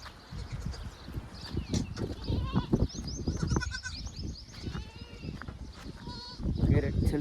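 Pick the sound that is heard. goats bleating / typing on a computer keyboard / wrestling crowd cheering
goats bleating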